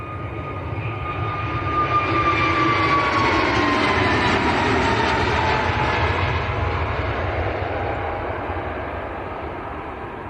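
An Airbus A321neo jet at Manchester Airport gives a loud, steady engine roar with a rising whine that swells and then slowly eases, close by and alone without voices.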